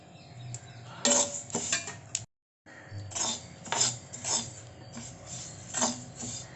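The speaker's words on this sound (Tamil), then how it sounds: "இப்போ நம்ம எள்ளை வறுத்துக்கலாம்." Sesame seeds dry-roasting in a pan, soft raspy scraping and rubbing strokes of stirring at an uneven pace, close and fairly quiet, with one brief silent gap.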